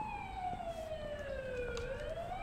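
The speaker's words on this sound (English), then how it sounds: "what's up with the ambulance?" A wailing ambulance siren sweeps down and back up in pitch, steady and moderately loud near a school, with no one talking.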